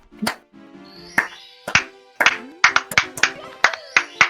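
Sharp, uneven claps ring out, a few scattered at first and then a quicker run of hand claps, close and fairly loud.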